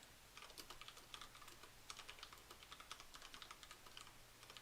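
Computer keyboard typing, steady quick clicks of keys heard faintly over a low background hum, no voices.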